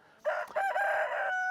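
A rooster on a homestead crows once, a loud, close, sustained cock-a-doodle-doo that rings out clearly above a quiet background.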